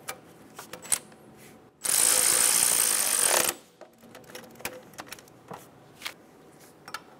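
A hand ratchet snugs an exhaust manifold bolt on a 2007-2012 Nissan during a catalytic converter assembly replacement, giving one loud, dense burst of rapid clicking that lasts under two seconds amid quiet shop background.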